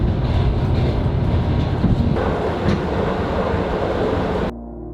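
A train rumbles along the rails through the Chernobyl exclusion zone, loud and close, with a steady heavy roar and faint rhythmic clatter before the noise abruptly cuts out.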